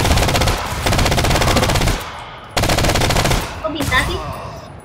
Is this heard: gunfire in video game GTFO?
yes